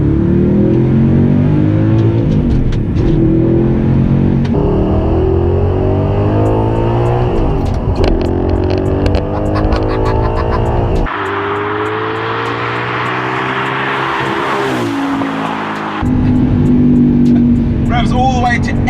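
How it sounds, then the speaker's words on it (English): An Audi R8 with a naturally aspirated V8 and Milltek exhaust revs loudly up and down, the pitch sweeping in repeated climbs and drops, with a sharp cut and a stretch of higher, rushing sound before the engine note returns, close and dominant. "You can't go wrong with that naturally aspirated V8 engine."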